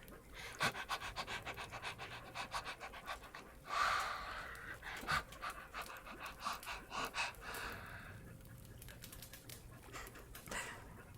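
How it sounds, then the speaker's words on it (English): Dogs pant rapidly and steadily at close range, a continuous breathy rhythm with brief pauses and a faint squeak in the middle, and no talking over it. "The dogs are very happy, clearly."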